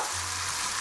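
White wine going into a hot pan with chicken broth, giving a loud, steady broadband sizzle and hiss, close up and continuous throughout.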